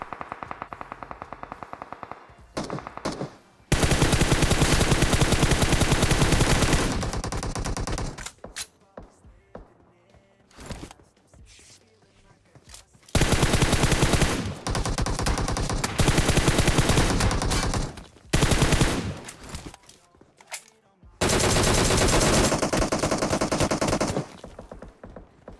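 Gunfire in PUBG Mobile comes in long, loud bursts of rapid automatic shots separated by quieter gaps, dense and close, with brief single shots in between.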